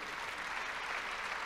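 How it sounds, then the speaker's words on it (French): Steady audience applause at a French business leaders' association event, a dense continuous wash of many hands clapping at moderate level throughout, with no voices standing out. "C'est Olivier et Carole, s'il vous plaît, applaudissez-les."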